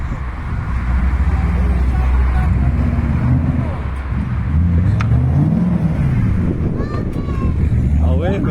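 Nissan 200SX heard from inside during a ride along, a steady engine drone with shifting pitch as it accelerates and changes gear, loud and constant with wind and road rumble throughout.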